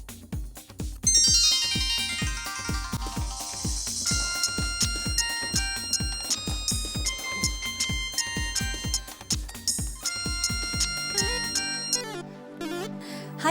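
A mobile phone rings with a bouncy, repeating electronic melody over a steady pulsing beat, loud and close for more than ten seconds, with no one speaking over it.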